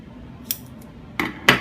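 Scissors cut peel and stitch fabric fuse for an in-the-hoop anchor bag, giving three quick, close snips over a quiet background.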